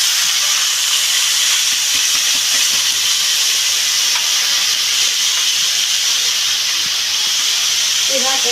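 Chopped banana flower going into a hot pan for a Bengali mochar ghonto sets off a loud, continuous steamy hiss and sizzle that holds steady throughout, close up.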